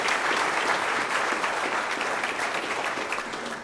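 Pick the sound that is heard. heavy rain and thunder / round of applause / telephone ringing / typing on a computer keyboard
round of applause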